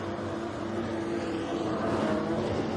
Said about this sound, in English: listen to those quad exhausts